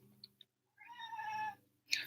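A cat gives a single drawn-out meow near the middle, framed by a few faint clicks and a brief soft rustle, quiet and close, with no speech.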